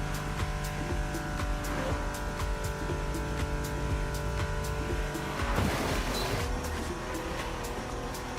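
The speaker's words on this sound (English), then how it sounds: "prepared a classic for you from a very famous German brand, the BMW Z4 M40i." A BMW Z4 M40i roadster engine drones steadily in the racing game The Crew Motorfest, holding a constant tone with faint tire noise and a brief surge partway through.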